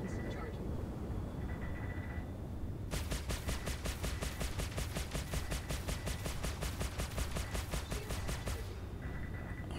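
Rapid bursts of close gunfire in a video game firefight against an enemy at short range, a sustained rattling volley of several seconds standing out over a lower background rumble.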